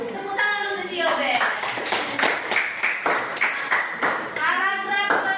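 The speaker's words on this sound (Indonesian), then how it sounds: "Tepuk tangan untuk si Yobe." A classroom of students claps for a classmate, a short burst of rhythmic, fairly loud hand claps close by, with a teacher's voice and children talking over and around it.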